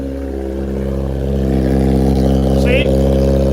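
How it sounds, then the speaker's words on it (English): A Kawasaki Ninja ZX-10RR sits in neutral with the engine running close by, a steady, even, low droning hum that swells slightly partway through while clutch drag turns the rear tire. "in neutral, just the parasitic drag of the oil through the clutch is spinning the rear tire"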